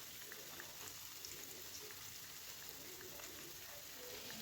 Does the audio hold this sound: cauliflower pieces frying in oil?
yes